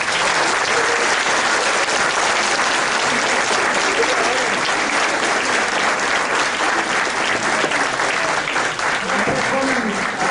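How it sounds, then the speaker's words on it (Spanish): Sustained, dense applause from a large crowd at an inaugural declaration of a legal conference, loud and continuous throughout with no break. "pido para esta declaratoria inaugural un fuerte aplauso para los organizadores"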